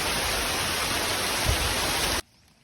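Steady dense hiss of heavy rain falling on a plantation of rosewood trees, loud and continuous, then cutting off abruptly near the end.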